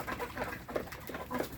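Fayoumi hens and roosters, a flock of five cocks and thirty-one hens about to start laying, cluck and murmur in a continuous low chatter, with several short calls rising above the background.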